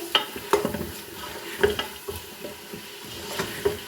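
Beef sautés on low heat for aloo gosht, a soft sizzle punctuated by repeated wooden spoon knocks and scrapes against the pot at an uneven, unhurried rhythm.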